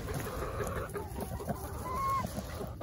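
Chickens clucking close by, with a rooster's short calls over a busy, scratchy farmyard background.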